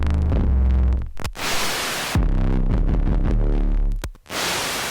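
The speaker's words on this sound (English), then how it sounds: "it lets in this sparkling noise, you know, sounds like a firecracker or something, and fizzing" Synth notes distorted through iZotope Trash 2 play in loud, buzzing bursts, each cut off sharply and followed by a bright, crackling fizz of noise before the next note sounds.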